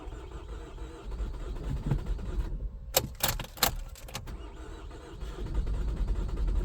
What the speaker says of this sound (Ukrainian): Тяжко заводиться вона.